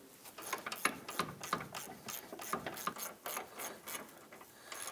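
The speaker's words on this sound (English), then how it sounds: "I'm going to go ahead and grab my wrench and run those in a little bit further" Ratcheting wrench running control arm bushing bolts on a 2001-2009 Volvo S60: steady repeated clicking strokes of the pawl, close and fairly quiet, with no talking.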